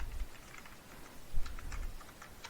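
Computer keyboard typing in quick, uneven bursts of light key clicks, close and moderately quiet with no voices.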